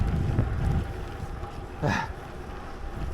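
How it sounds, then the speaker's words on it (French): Low, rumbling headwind buffeting the microphone while cycling on a gravel ride, strongest at the start and easing off, with a brief swishing sweep partway through. "Un petit peu de vent de face, mais pas trop fort"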